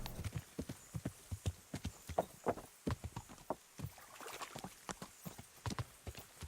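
Horse hooves walking at a steady gait in the medieval game Kingdom Come: Deliverance, with crisp regular clip-clop strikes close by over a faint background of rain.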